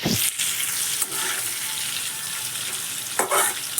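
Bitter gourd sizzles loudly in a hot pan, with scraping stirs near the start and again toward the end, no voices.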